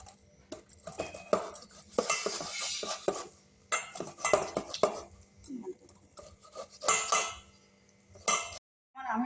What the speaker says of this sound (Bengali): এইভাবে সব আমটাই আমি চেঁচে নেব।